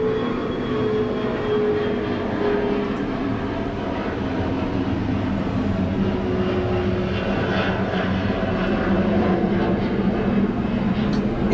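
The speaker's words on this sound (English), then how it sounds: "I'll pause for a plane to go overhead." Airplane passing overhead, a loud, continuous broadband engine roar that holds steady for the full stretch with no talking over it.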